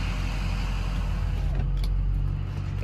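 A Ford Powerstroke diesel truck engine hums and rumbles steadily at idle from inside the cab, a low continuous drone with a slight whine faintly present.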